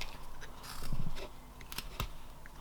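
Quiet, close scraping and crunching of a carving knife cutting a stop cut into a small wooden bear figure, with short bursts and a few sharp snaps, soft and without talking.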